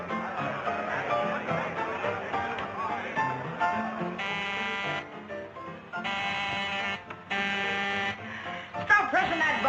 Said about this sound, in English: Stop pressing that buzzer.